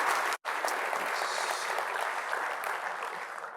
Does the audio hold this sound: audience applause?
yes